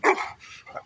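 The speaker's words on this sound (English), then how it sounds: "Can you speak? Are you a good puppy?" A puppy gives a short burst of yappy barks and yips, close and fairly loud, with a brief quieter trailing yelp, as if responding to a command during play.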